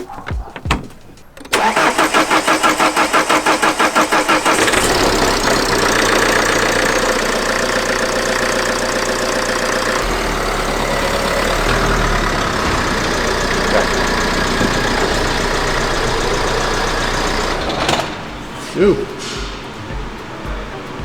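A Ford Mondeo with a TDCi diesel engine, a car under warranty with a fault, cranks briefly, starts with a rough shudder and settles into a loud, steady knocking idle for most of the time before being shut off.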